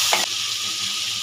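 Steady hot-oil sizzle with one quick scrape of a spatula near the start, as spices and onion paste are stirred and sautéed in oil in a pan for a pointed gourd dish. No voices.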